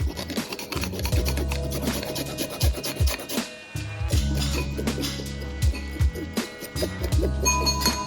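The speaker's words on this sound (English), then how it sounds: "I will grate the remaining ginger and set it aside." Fresh ginger rasped against a metal grater in quick, steady strokes, close up in a kitchen, with small clinks of metal breaking up the scraping rhythm and a short pause near the middle.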